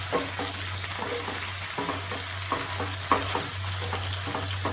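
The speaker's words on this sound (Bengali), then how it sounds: "মোটামুটি চিকেনটা 10-15 মিনিট মতো ফ্রাই হবে।" Chicken pieces frying in a pan for butter chicken, a loud, steady sizzle with regular stirring scrapes and clatters throughout, no voices.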